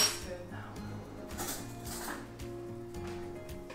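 Metal cutlery and dishes clink and clatter close by as a spoon is fetched in a home kitchen, with a louder jangle at the start and lighter scattered clinks after.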